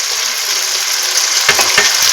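Ginger garlic paste with a spoonful of salt sizzles in hot oil in a pan for a catla fish kalia, a bright steady crackle with a couple of stirring scrapes toward the end.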